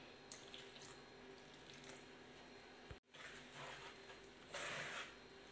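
Water trickles little by little into a flour mixture for egg pathiri dough, a faint, steady pouring splash interrupted by a brief break and growing a little stronger near the end.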